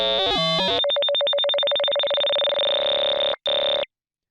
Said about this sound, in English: The square wave has much more digital sounding than the sine.